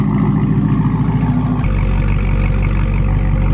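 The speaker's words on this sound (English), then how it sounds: "All right, Corsa, cold start. True, absolute cold start." A Camaro ZL1 with a Corsa Extreme exhaust fires up from a true cold start, a loud, deep, rumbling idle close by that drops in pitch as it settles.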